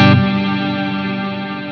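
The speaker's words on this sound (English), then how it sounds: "So there's still quite a lot of reverb happening, but it doesn't have the shimmer thing on top." Guitar through a G-Lab Rebel Series reverb pedal with the shimmer dialed down: a single struck chord rings on in a full reverb tail that fades slowly, without a bright upper halo.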